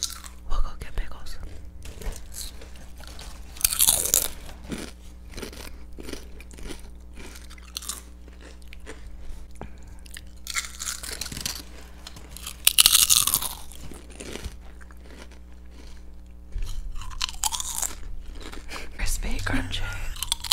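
A crunchy pickle bitten and chewed up close in a whispered ASMR setting, with a few sharp crisp bursts of biting and crunching between quiet stretches and soft voices.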